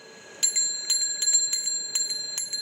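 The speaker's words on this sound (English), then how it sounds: "this is how a bicycle bell would sound on Mars" A bicycle bell as it might sound on Mars, a series of about eight bright metallic rings with lingering tones, fairly loud and heard alone.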